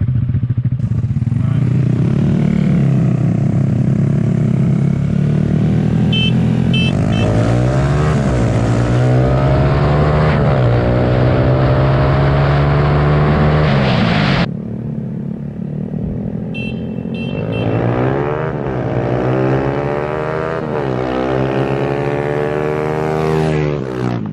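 A blue Honda Grom and a Yamaha SMAX scooter race side by side in a street drag, two small engines revving hard and climbing through gears, loud and close, dropping briefly before winding up again.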